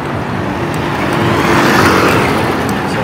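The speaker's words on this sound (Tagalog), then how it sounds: "Kay karaming sasakyan eh." Steady roar of busy road traffic with many cars and motor vehicles streaming past, loud and close throughout, with no clear individual pass-bys standing out.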